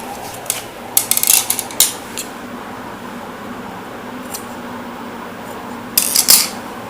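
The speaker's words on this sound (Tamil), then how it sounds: "இது கட் பண்ணிடலாம் இந்த எக்ஸ்ட்ரா பீஸை" Sharp scissors snip through the extra piece of blouse fabric in a couple of quick bursts of crisp cuts, close by, with quiet pauses between.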